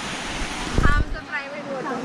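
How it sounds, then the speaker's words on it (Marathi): A secluded waterfall near Ghatghar Dam produces a broad rushing wash of falling water, buffeted by wind noise on the microphone. A brief voice briefly cuts in over it. "आणि हा आमचा वॉटरफॉल"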